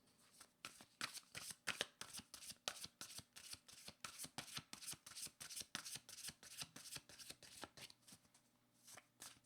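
Tarot cards being shuffled in a steady run of crisp, rhythmic riffles, close and fairly quiet, with no talking, ending in a brief pause and one last shuffle.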